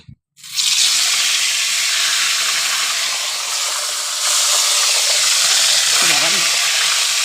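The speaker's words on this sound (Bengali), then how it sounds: "তেলটা গরম হয়ে গেছে গো। আর চলুন দেখা যাক, মাছটা ভেজে নিই।" Fish dropped into hot oil bursts into a loud, broad, steady sizzle after a brief quiet start, continuing close and unbroken.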